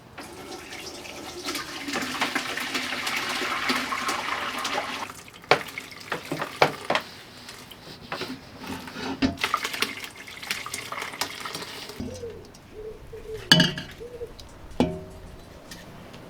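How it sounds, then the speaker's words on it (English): Flower-dyed water trickles and splashes steadily as it is poured through a filter into a container, with a few clinks and a louder splash near the end. "I'm going to filter the water to remove all the flowers"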